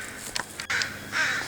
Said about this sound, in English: Crows and jays, they sound the alarms, and everyone in the forest, every bird knows I'm here.